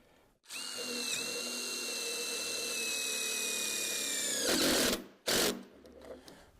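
A power drill drives screws into a pergola perimeter box beam bracket, a close whining motor run of about four seconds that slows slightly, followed by two short bursts.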